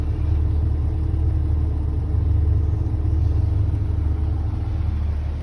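A 1997 Jeep Wrangler TJ engine runs with a loud, steady, deep rumble heard close and continuously, with no change in pitch and no talk over it.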